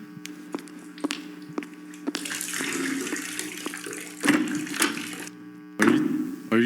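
Water runs and splashes in bursts during a stormy stage scene, loud and close over a steady low hum, with intermittent sharp knocks and surging gushes.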